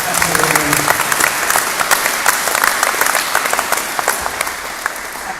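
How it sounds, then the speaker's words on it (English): An indoor audience applauds a choir at an archival indoor bowls broadcast, a sustained burst of many hands clapping with light crowd murmur throughout, fairly close and loud. "Can we give another round of applause to the choir?"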